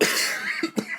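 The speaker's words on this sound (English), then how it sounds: "sorry, smoker's cough." A man lets out a smoker's cough: a rough, raspy hacking, then two short, sharp coughing bursts close to the mic, all in about a second.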